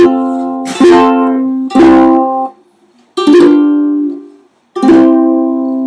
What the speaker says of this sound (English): sit on the porch and play on my little uke